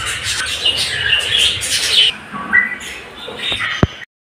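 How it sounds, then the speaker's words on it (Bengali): Many budgerigars and African lovebirds chirp and squawk at once in a busy, high-pitched chorus, close by, thinning out near the end before a sharp knock. "এই পাখিগুলো হচ্ছে অস্ট্রেলিয়ান বদ্রি পাখি, আফ্রিকান লাভ বার্ড, আফ্রিকান লাভ পাখি"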